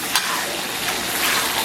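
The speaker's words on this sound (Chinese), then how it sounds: "接下来咱们把提前炒好的酱给它下里边" Pre-made bean sauce stir-fried in a hot wok, producing a loud, dense, continuous sizzle with scraping stirring swishes layered on top.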